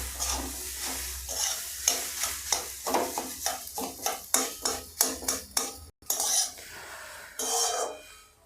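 Semolina upma being stirred and fried in a pan, a spoon scraping through the dry, crumbly grains in a quick regular rhythm of strokes over a soft sizzle, with a short pause near the end.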